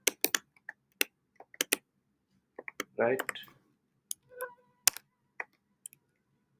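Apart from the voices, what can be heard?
typing on a new laptop keyboard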